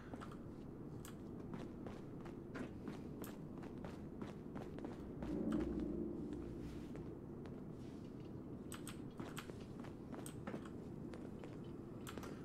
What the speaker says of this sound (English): but I also hear footsteps